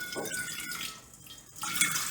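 Water is poured into a mixing bowl while making homemade marshmallows, a short splashing trickle that rises and breaks off, fairly quiet and close.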